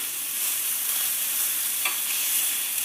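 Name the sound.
rump steak sizzling in a pan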